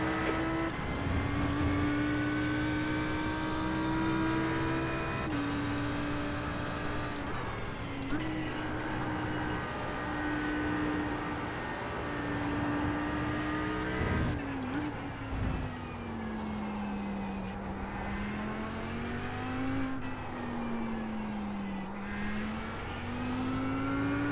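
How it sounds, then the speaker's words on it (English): A GT3 race car's engine in a racing video game at the Interlagos circuit, a loud, continuous drone that rises and falls slightly with revs across the whole stretch, with faint background noise. "There's a faster class car approaching."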